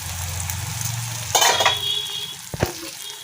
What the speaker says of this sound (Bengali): ঢাকা খুলে দিচ্ছি।